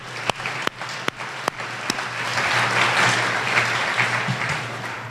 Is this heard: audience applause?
yes